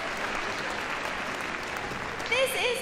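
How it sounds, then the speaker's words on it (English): An audience at the Crufts 2013 rescue dog agility event applauds a rescue dog, giving a dense, steady wash of clapping throughout that swells slightly near the end, where a voice rises over it. "so let's give him a round of applause"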